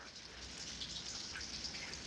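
Steady rain falls on an abandoned building at night, a dense, even hiss with no talking over it.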